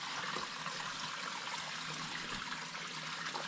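Water trickles and flows through a natural cave system in Smallcleugh lead mine near Nenthead, Cumbria, a faint, continuous splashing rush with no break.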